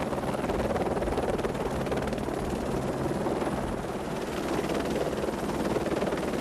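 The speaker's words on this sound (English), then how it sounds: "By this time, the helicopter should have moved away from the flight deck." A helicopter runs steadily near a ship's flight deck, a loud, continuous rotor and turbine roar with a low hum that holds constant throughout, no voices.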